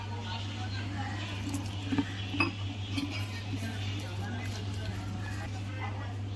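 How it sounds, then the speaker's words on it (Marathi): A spoon clinks and scrapes against a bowl while amaranth flour batter with rock salt and cumin is mixed, a steady pattern of soft taps and scrapes over a low continuous hum. "अशा प्रकारे बॅटर बनवून घ्यायचं आहे।"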